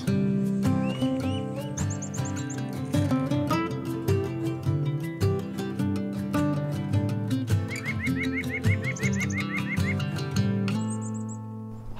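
A chickadee outdoors in Ottawa gives a few brief, high chirping trills, rather faint and spaced out over steady louder background music.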